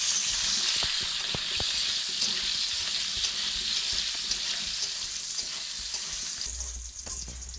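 Pointed gourd pieces fry with salt and turmeric in hot oil, giving a steady bright hiss with occasional spoon taps and clicks, close and even until it drops slightly at the end.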